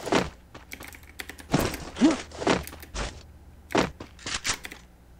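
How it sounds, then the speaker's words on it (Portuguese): Loud computer keyboard keys clatter in irregular bursts of sharp clicks and thunks during a Free Fire gaming session, with short pauses between clusters of strokes. "esse barulho, galera, que vocês escutam, é meu teclado"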